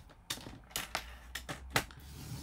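Paper is folded and creased for a scrapbook photo album, with four crisp, sharp strokes spaced about half a second apart. They are close and distinct against a quiet background.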